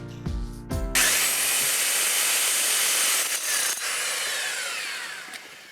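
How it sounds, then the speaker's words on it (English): Water-cooled drill boring into a house wall to fit a Schrijver damp control system, a few short revs before a loud, steady grinding whine that holds and then slowly eases off. "it's to keep the drill cool and to minimise the dust"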